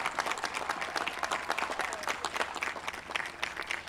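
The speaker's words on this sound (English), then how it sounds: "Please give your families a round of applause" Applause from the audience at a Marist College commencement ceremony, honoring graduates' families: steady, fairly close clapping from a large crowd, with a few whoops and a voice faintly heard through it.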